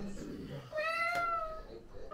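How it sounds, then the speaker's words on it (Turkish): A cat meows once in a drawn-out, rising and falling call in a home, loud and close, with people talking softly around it. "Bak nasıl miyavlıyor?"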